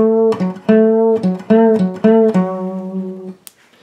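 An acoustic guitar plays a short fill from a song, a run of plucked notes with repeated attacks and a bend that ring out close and clear, then fade to quiet.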